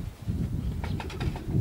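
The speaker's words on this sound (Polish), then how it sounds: "kolega Jerzy wypuszcza te gołębie lotowe" Racing pigeons leaving a loft as the doors and entrance are opened, soft cooing and brief wing flaps up close, short and unaccompanied by talk.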